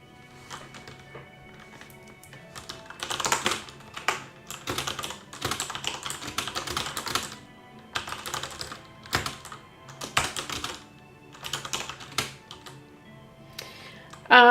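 Steady typing on a computer keyboard during a fantasy novel drafting session, with bursts of rapid keystrokes separated by short pauses, close and fairly quiet.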